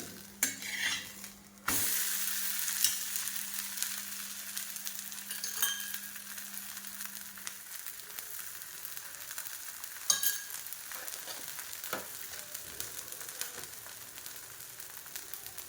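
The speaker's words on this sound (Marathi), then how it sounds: "अगदी मंद आचेवर आपल्याला हे खरपूस भाजायचे आहे." Thalipeeth made from leftover rice roasting on a pan over a very low flame: a steady sizzle with scattered scrapes and clinks of a spatula, loudest at the start.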